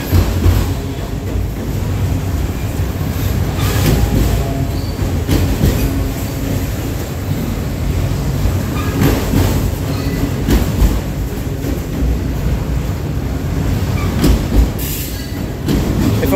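A heavy Norfolk Southern freight train led by locomotive 8002 rumbles past up close in Jeannette, Pennsylvania, steady loud roar of cars with rhythmic wheel clatter and occasional metallic squeal throughout.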